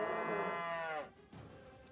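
Zombie Nazi cows in the video game South Park: The Stick of Truth give a single drawn-out, harmonic moo that fades into a quieter tail, faint and alone.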